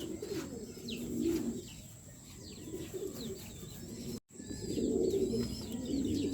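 Low, soft pigeon coos repeat in rounds with brief pauses, alongside faint chirping birds in the background and a steady hum.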